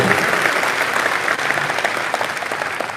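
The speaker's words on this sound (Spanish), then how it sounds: "aplauso para el Señor" A church congregation applauds loudly and continuously, dense clapping filling the room throughout.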